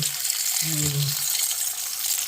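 Deep-well water runs in a steady, fairly loud rushing stream, as from a tap or pipe, with a brief low voice or tone murmuring under it.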